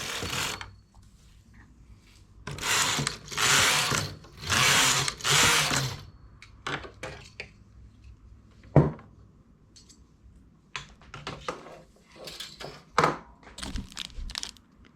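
A knitting machine carriage sweeps across in several loud, rasping passes, knitting rows of a bobble and stretched-stitch pattern. Sharper clicks and shorter strokes follow, close by and with no voices.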